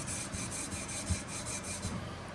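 A Scotch-Brite pad scrubs a chemically stripped surface in quick, rhythmic back-and-forth rasping strokes, close and fairly quiet, with no voices.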